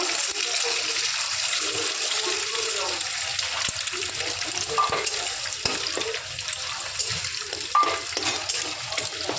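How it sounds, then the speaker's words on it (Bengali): An egg fries and gets scrambled in refined oil in a wok, giving a steady close sizzle broken by occasional clinks of a spatula on metal. "দেখতেই পাচ্ছ কড়াইতে আমি কিন্তু ডিম দিয়ে দিয়েছি। এখন ডিমটাকে একটু ঝুড়ো ঝুড়ো বানিয়ে নেব।"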